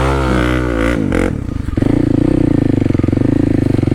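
A Kawasaki KLX300 dirt bike fitted with an aftermarket exhaust revs up loud and close for a wheelie, its engine note climbing, briefly dropping, then surging into a steady hard-pulsing drone.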